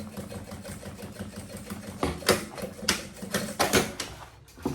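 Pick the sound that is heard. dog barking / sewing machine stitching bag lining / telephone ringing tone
sewing machine stitching bag lining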